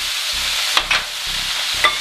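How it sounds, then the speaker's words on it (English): Spoon stirring cumin and paprika through sautéed beef, with a few sharp scrapes against the pan over a constant soft sizzle, close up and without any talking. "Give it a good stir."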